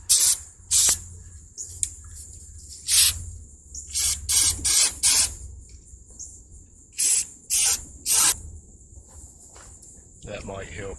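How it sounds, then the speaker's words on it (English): Max Carb Choke and Throttle Body Cleaner sprayed into the carburetor of a 1979 Lazy Boy B 400H vintage push mower, heard as a string of sharp, loud hissing bursts of varying length, some close together, with a faint steady tone underneath. "I'm gonna spray a little bit of this Max Carb Choke and Throttle Body Cleaner in that carburetor"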